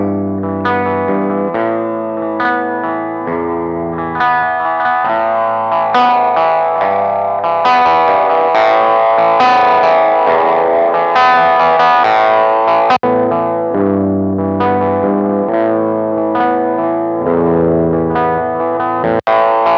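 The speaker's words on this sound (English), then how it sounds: "These filters are designed to be slightly obnoxious and lo-fi sounding" A sustained synth chord progression run through the lo-fi filter of a Hungry Robot Wardenclyffe effect, sounding slightly distorted and warbly with chorus-like shimmer, playing continuously and loud.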